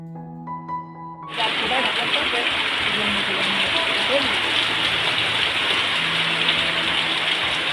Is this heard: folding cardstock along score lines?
no